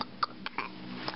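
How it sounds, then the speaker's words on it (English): A baby gives a few short soft throaty bursts, small burps or hiccup-like sounds spaced apart, close and quiet indoors with no talking. "Oh, he burped in my face."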